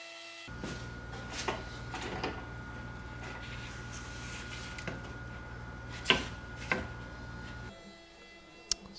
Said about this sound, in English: So here the CNC is cutting out the legs for the bench.